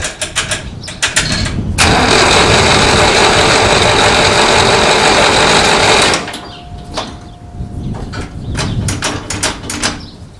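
A long-idle Massey Ferguson 165 tractor engine cranks loudly and harshly for about four seconds, then drops away. Quieter mechanical rattling and handling noises come before and after the crank.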